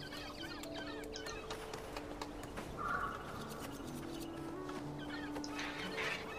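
Cartoonish birds cluck and gobble in the Broken Age adventure game, a steady string of fowl-like calls over a busy ambient bed with no talking.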